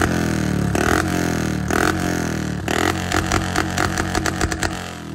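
A Royal Enfield Bullet 350 motorcycle engine, stock-looking with chrome sticker modifications, runs loud and close with a steady thumping idle broken by several sharp throttle blips that grow quicker toward the end.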